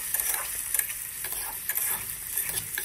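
Potatoes and cauliflower are stirred and fried in a pan with salt and turmeric. Soft sizzling carries under irregular clicks and scrapes from the spoon, with light taps spaced unevenly throughout. No voices.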